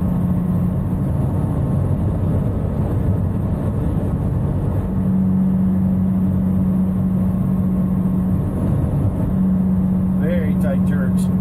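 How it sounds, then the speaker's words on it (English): A semi truck descending a grade in Idaho with the engine brake engaged, giving a steady low droning rumble throughout while a voice talks over it. "Just going to ride it down on Jake's."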